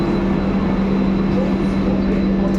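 A passenger train at Kamakhya station, on the New Alipurduar to Guwahati route, gives a steady low rumble and hum, close and continuous, with no voices.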